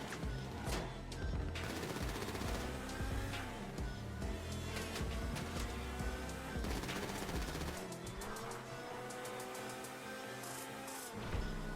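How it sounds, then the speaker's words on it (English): Rapid bursts of automatic gunfire hit the player in GTA 5 Online, dense repeated shots layered over a loud, continuous game soundscape of engine and music. "Now you will get shot a couple times, there's no way to prevent."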